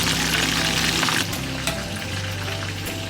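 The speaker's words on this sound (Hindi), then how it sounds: "थोड़ी चीज़ें फ्राई करेंगे" Food sizzles and crackles steadily in a hot pan in a home kitchen, a loud dense frying hiss that runs without pause, with a faint clatter partway through.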